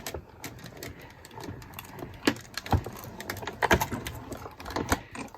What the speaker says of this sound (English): I run this through the die cutting machine